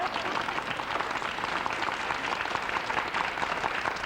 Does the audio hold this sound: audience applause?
yes